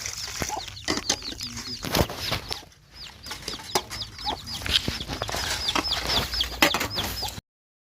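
Chickens cluck and chatter around a rural Lao farmyard in a rapid, busy series of close calls, with occasional wing flaps and clattering sounds.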